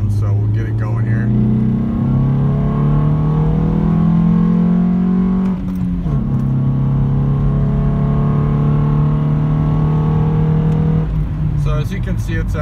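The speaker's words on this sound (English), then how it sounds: "I wanted a little more noise, induction noise. So I installed a Ram Air intake off of an Integra" A 1999 Honda CR-V first-generation engine fitted with an Integra Ram Air intake revs repeatedly, its pitch rising and falling in several sweeps with a throaty induction note, loud and close; some talking sits under it.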